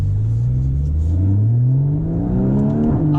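Porsche Boxster GTS engine pulling hard on a spirited drive, a loud, close, rising engine note climbing steadily in pitch through acceleration, with no talking over it.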